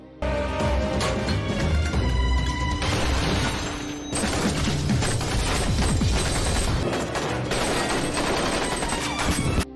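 A film scene's firefight between an outside team and an armed squad, with dense, loud bursts of automatic gunfire, cracks and crashes running almost continuously, briefly easing once before resuming.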